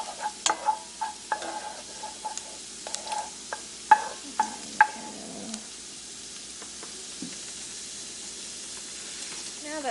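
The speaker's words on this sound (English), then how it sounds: "Just let that start frying up just for about 30 seconds. Nothing much. Just enough to get it all nice and browned." Garlic browning in a pan for spring rolls, a low steady sizzle under a string of sharp clicks and scrapes from stirring, close and moderately quiet, fading to a soft hiss, with no talk.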